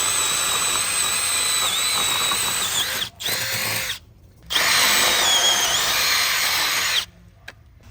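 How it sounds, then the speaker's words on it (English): A power drill whines at high speed in long bursts, drilling anchor bolt holes through framing plates, stopping briefly between holes, close and loud with no talking. "let's drill some anchor bolt holes"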